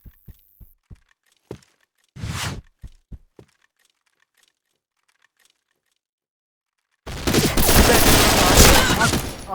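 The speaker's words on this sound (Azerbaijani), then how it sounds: "Atışma." Gunfire in the online shooter game Point Blank: a string of sharp, separate shots and a short burst early on, then a few seconds of quiet, then a loud, dense volley of rapid fire that runs to the end.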